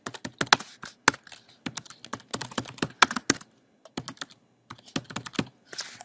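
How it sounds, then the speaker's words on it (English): Typing on a computer keyboard in quick irregular bursts of sharp close clicks, with short pauses between runs and no talking. "I'll type this out like this."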